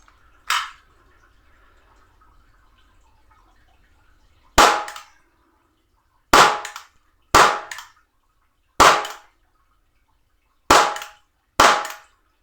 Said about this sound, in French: Tire à la va-vite, hein.